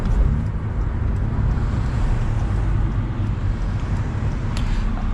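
A 2014 Hyundai Genesis Coupe 2.0T R-spec drives along, heard from inside as a loud, steady low engine and road drone with no distinct turbo whistle standing out.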